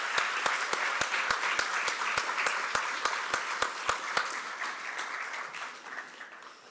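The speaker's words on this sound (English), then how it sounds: "please join me in applauding the loved ones for the work and the sacrifices that they have provided to these graduates" Crowd applause at a Black student graduation ceremony, a steady wash of clapping with one loud, regular clapper close by, rhythmic for about four seconds before the ovation slowly tapers.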